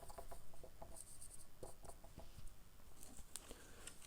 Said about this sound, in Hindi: क्वेश्चन लिखते हैं